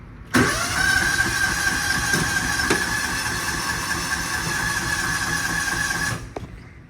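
A Kawasaki Mule's starter cranks its engine continuously for about six seconds without the motor firing, then the cranking stops abruptly; loud and close, no talking.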